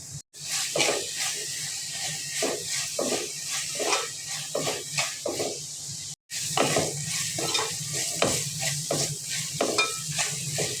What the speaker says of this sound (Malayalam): കുറച്ച് കറിവേപ്പില എന്നിട്ട് നന്നായി വഴറ്റിയെടുക്കുക